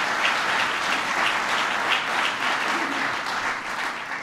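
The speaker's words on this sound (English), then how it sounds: "So please give Joe Biden a big round of applause" An audience applauds Joe Biden at a gathering with city mayors, a dense, sustained wash of clapping that stays even and loud throughout, with no one speaking over it.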